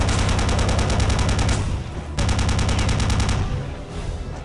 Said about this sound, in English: Here we have the machine gun.